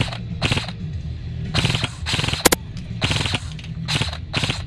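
Airsoft guns fire full auto on a field in Fresno, California, in about half a dozen short, rattling bursts with brief gaps between them. The shots are close and loud.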